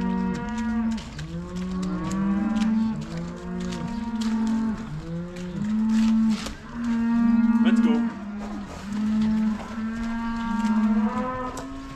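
A tiny calf moos over and over in a pasture, a long series of close, drawn-out bellowing calls rising and falling with short gaps between them.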